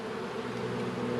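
Honey bees hum at an opened hive colony during a late March inspection, a close, continuous buzzing drone with a steady tone and no voices over it.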